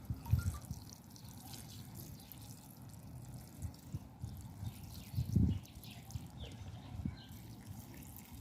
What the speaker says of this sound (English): This is a beef stock that we're putting in.